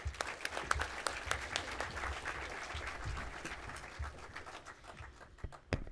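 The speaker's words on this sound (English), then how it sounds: "let's give them a round of applause" Audience applause at a virtual foundation donor recognition and awards presentation, a steady patter of many hands clapping at moderate level with a few sharper claps standing out, no voices over it.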